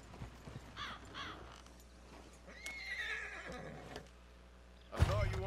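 A horse whinnies briefly in Red Dead Redemption 2, followed by hoof clip-clops and a sharp louder burst near the end, all fairly quiet amid faint game ambience.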